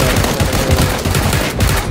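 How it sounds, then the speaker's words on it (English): Rapid automatic gunfire in PUBG, a loud, close burst of shots fired in quick succession throughout. "there was gunshots in the house"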